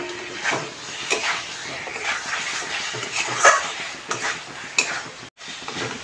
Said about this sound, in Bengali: এখন মাছগুলো দিয়ে একটু নাড়াবো।